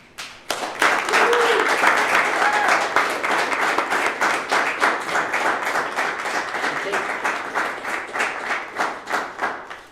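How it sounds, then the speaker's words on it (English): An audience at the JBA Spark Tank 2021 pitch event gives the presenters a round of applause: many crisp hand claps that start suddenly, hold steady, then thin into scattered claps toward the end. "Give them one final round of applause."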